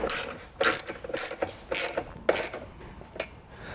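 A ratchet wrench clicks in quick back-and-forth bursts while tightening bracket bolts for a hidden hitch receiver on a 2020 Tesla, about six close, crisp strokes with no talk.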